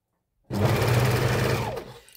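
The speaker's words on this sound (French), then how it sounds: "Je vais coudre ma fourche." A sewing machine stitches the crotch seam of a garment in one steady, fast-running burst of about one and a half seconds that starts abruptly after a short silence.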